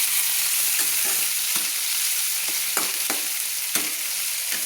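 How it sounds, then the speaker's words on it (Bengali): Chopped tomatoes frying with spices in a pan give a constant hissing sizzle, punctuated by a few crisp spatula knocks against the metal, close and steady with no speech. "টমেটোগুলো যাতে গলে যায় সেইভাবে আমি কিন্তু ভেজে নেব।"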